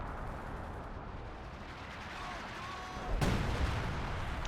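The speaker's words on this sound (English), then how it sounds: "And another artillery strike." An artillery strike in Company of Heroes 2 lands as a sudden broadband blast near the end, following a low rumbling battlefield bed with faint background tones.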